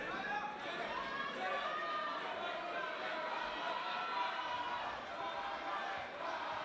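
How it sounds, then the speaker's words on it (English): Spectators at a Muay Thai fight evening, a dense, steady crowd murmur with scattered shouts from many voices, heard at some distance and fairly faint throughout. "And the crowd certainly have their favorites here this evening. You can hear them shouting out."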